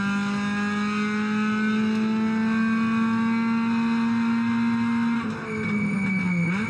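A race car lapping Sydney Motorsport Park holds a loud, steady engine note that slowly climbs in pitch, then drops and shifts briefly as it changes gear before pulling on again.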